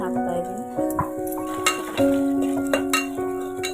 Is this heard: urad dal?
yes